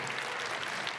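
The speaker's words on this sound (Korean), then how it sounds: "박수로 우리 환영해 봅시다" A church congregation claps to welcome twelve new members at a worship service, a brief steady wash of applause filling the room with no voices on top.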